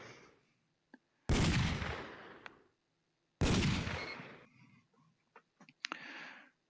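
Light gun fire in Time Crisis on PlayStation: two loud, sudden blasts a couple of seconds apart, each decaying over about a second, followed by a few faint clicks and small game sounds.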